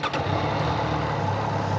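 A Triumph Daytona 660 sport motorcycle runs on its stock exhaust, a steady, moderately loud engine drone that holds even for under two seconds.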